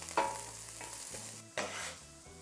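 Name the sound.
onions frying and being stirred in a pan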